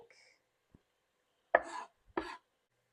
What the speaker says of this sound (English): Cut your potatoes